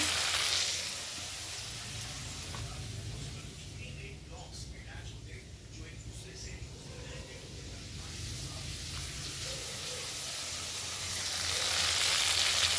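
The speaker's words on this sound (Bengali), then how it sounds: "লঙ্কা দিয়ে দিয়েছি তেলে একটু সেদ্ধ হয়ে গেলেই বেগুনটা গাছের বেগুন নাড়াচাড়া করতে করতেই সেদ্ধ হয়ে যাবে" Garden eggplant and chilli fry in hot oil while being stirred in a pan, making a steady, broad sizzling hiss that runs throughout and swells slightly louder toward the end.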